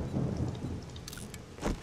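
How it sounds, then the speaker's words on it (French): Thunder rumbles through a storm in the survival game 7 Days to Die, a deep low roll with rain hiss and a couple of brighter cracks, loud and close, with no talking. "Pourquoi il y a l'orage?"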